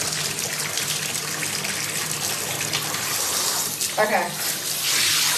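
High-pressure water spray blasting and washing down a jacuzzi tub, a loud continuous hissing gush with brief shifts in intensity; a person speaks briefly.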